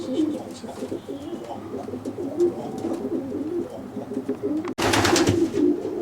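Racing pigeons coo steadily inside a loft section for widowed cocks with nest boxes, a dense, close murmur of overlapping calls, then a sudden louder burst of cooing and wing noise near the end.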